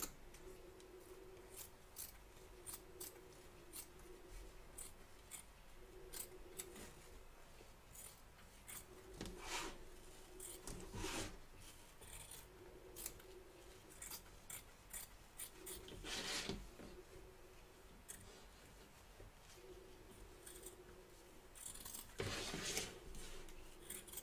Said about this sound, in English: Trim away the excess batting from around the edge of the stitch line, taking care not to cut your stitches or your hanging loop.